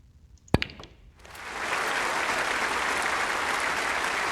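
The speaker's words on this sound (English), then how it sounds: "that applause tells me that we've won the frame and the match" A sharp click is followed by a swell of applause that rises and holds as steady, sustained crowd clapping at the end of a snooker match in a video game.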